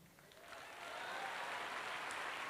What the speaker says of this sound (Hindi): एक बार फिर से आपने मेरी मां के लिए तालियां बजाई